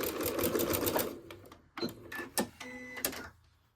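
A sewing machine runs a short back stitch while making a fabric door latch cover. It gives a dense whir that stops briefly, followed by a few short clacking bursts as the stitch reverses, close up and without talk.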